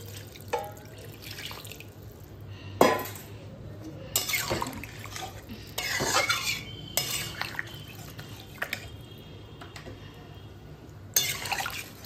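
Hot water poured into a pan of frying chicken curry, with watery splashing, drips and clinking stirring in several loud bursts over a steady sizzle, no talk.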